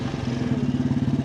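A 1983 Royal Enfield motorcycle engine imported from India thrums steadily at close range, a low pulsing drone with a regular throbbing rhythm throughout.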